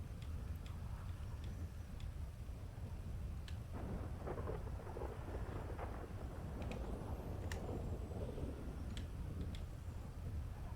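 Thunderstorm in a video game, with steady rain on surfaces under a low continuous rumble of thunder and scattered light ticking sounds, fairly faint and without talk.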